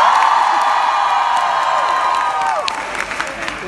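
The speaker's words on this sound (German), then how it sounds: "Applaus von allen Frauen." The women of an open-air Schlager festival audience in Osterode am Harz break into applause, a dense, loud wash of clapping with scattered cheers and whoops that gradually fades into sparser claps.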